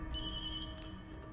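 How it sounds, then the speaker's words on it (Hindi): A telephone rings once, a short bright electronic trill that cuts off after about half a second, close and clear. "मुत्तू का फोन है"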